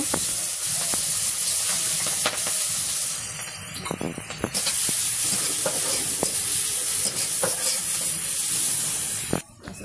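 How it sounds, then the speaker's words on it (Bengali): Sliced onion and green chili sizzle and hiss in hot oil in a pan, a steady loud frying sound with occasional stirring clatter, in a village-style chicken curry. "এখন পেঁয়াজ কাঁচামরিচ দিয়ে দিল।"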